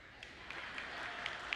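An audience claps briefly at a MonaVie event in Anaheim, a faint, scattered patter of hands heard from a distance.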